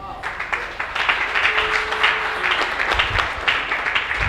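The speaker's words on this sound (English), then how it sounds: "Can we give him another round of applause, please?" Audience applause fills a hall after a talk on inheritance law in Nigeria, a dense steady clapping that swells and holds for several seconds, with a voice speaking over it.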